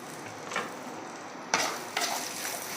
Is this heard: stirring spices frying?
yes